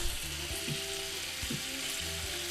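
Bacon fries in a pan over medium heat, giving a steady close sizzle with a few soft scraping stirs, and no one speaks.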